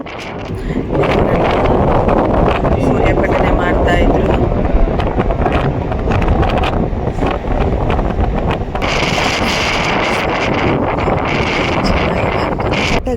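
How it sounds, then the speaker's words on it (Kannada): Strong wind on the open roof deck of a cruise ship buffets the microphone in a loud, continuous roar, with a person's voice faintly under it and a brief brighter hiss near the end. "ಈ ಗಾಳಿಯ ಸೌಂಡ್ ನೋಡಿ"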